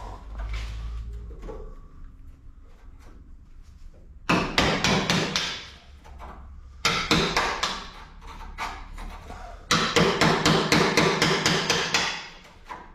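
Sharp metallic hammer blows drive a screwdriver used like a chisel into the steel door skin of a classic Mini, landing in three dense, loud bursts of rapid strikes separated by brief pauses.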